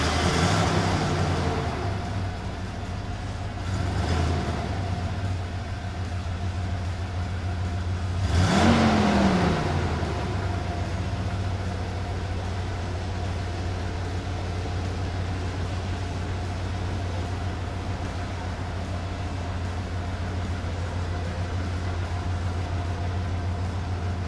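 A 1988 Ford F150 XLT Lariat with a fuel-injected engine cranks and catches, its starter whir giving way to a rising rev burst before settling into a steady, close idle hum with no talking.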